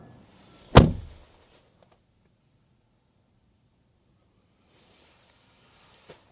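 Door of a 2024 Cadillac XT4 shutting with one solid, close thud, followed by quiet, then a faint rustle and a small click.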